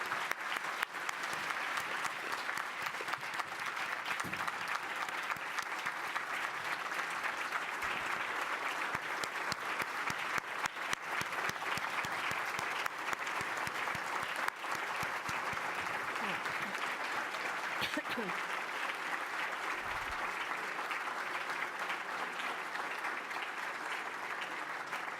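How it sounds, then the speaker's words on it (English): A large audience at a democracy award dinner gives sustained, dense applause that stays steady and full throughout, with faint voices mixed into the crowd. "please join me in applauding his incredible leadership"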